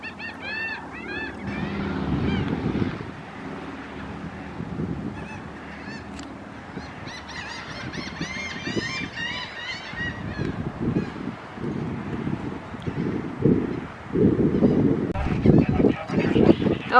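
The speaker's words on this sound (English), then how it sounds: "Look at all those seagulls." Gulls call near moored boats in a bay, a flock of harsh honking cries overlapping at close range, with bursts of low rumbling wind and handling noise in between.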